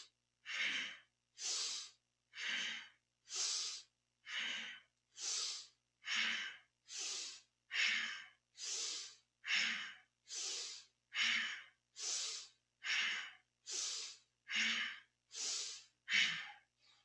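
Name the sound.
powerful breathing while twisting in kundalini yoga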